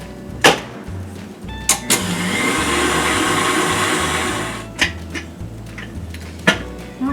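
An electric stand mixer whirs steadily while beating muffin batter with vanilla, with clanks from the bowl at the start and end and a continuous motor drone through the middle, alone and fairly loud.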